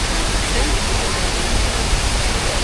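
Water gushes steadily from a public drinking fountain in Rome, a loud, close, unbroken rushing splash with no breaks.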